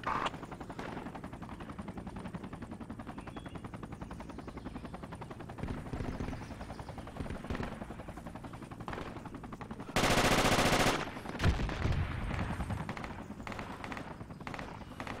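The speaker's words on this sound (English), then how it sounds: "Yeah, I think he's shooting." Gunfire from an assault rifle in the video game Project Reality crackles in bursts at a distance, low and muffled under faint background rumble, with one sharp, loud burst near the middle.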